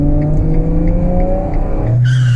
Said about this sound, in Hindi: अरे गाड़ी तो ठीक से चलाओ यार